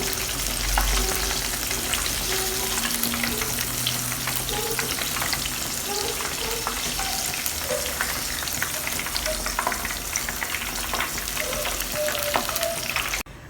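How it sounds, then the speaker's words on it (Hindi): Lahori fish fry bubbles and crackles in hot oil with a dense, steady sizzle, with faint utensil clinks as the pieces are lifted out slowly near the end. "फिश को मैंने अच्छे से फ्राई कर लिया है और अब मैं इसको निकाल लेती हूँ आहिस्ता आहिस्ता से।"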